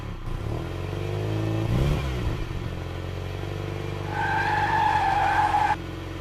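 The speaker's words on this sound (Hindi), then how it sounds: "अरे लगता है गाड़ी के बैक साइड वाला टायर पंक्चर हो गया है।" A car with a punctured rear tyre skids to a halt, a loud low engine rumble broken by a grinding slide, followed by a sustained high tyre squeal near the end before cutting off.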